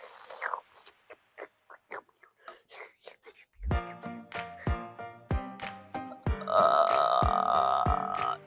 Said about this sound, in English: That's fake. It's a fake burp.